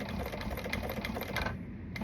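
Sewing machine stitching vinyl over foam, a quiet, rapid mechanical chatter of needle strokes running steadily, then easing off toward the end.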